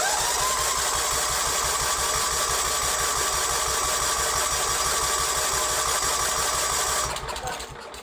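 A John Deere lawn mower engine runs steadily and loudly with a dense, buzzing drone, then drops off slightly near the end as the throttle changes.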